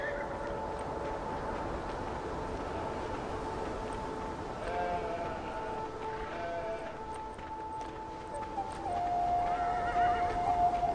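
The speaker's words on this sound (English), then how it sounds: "A horse." A horse neighs in the video game Beyond: Two Souls, a long, high whinny ringing out over a low rumbling background and rising near the end.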